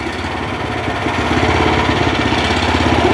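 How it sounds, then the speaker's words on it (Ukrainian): Motor Sich MB-16E walk-behind tractor engine revving up from idle, a loud, close, steady throbbing mechanical drone that rises slightly in intensity. "Додам трохи обертів."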